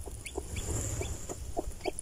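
A silkie hen clucks softly and chicks peep in short, high chirps, close by, with a few scattered calls over a low background rumble.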